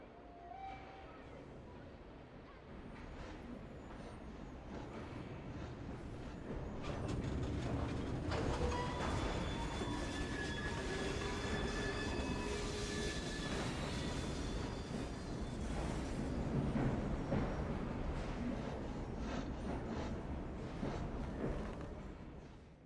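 A train runs in the Victorian London of the video game Assassin's Creed Syndicate, a steady rolling rumble with faint clatter that swells midway and carries on throughout.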